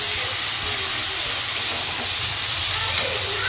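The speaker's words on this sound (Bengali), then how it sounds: "চিংড়ি মাছটা একটু ভেজে তুলে রাখবো আগে।" Prawns frying in hot oil, a loud continuous hiss and sizzle filling the whole moment, close and steady with no talk.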